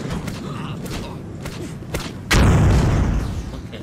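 Gunfire in the video game Driver: Parallel Lines, a few sharp cracks followed by one heavy booming blast with a lingering low rumble, heard over game background sounds.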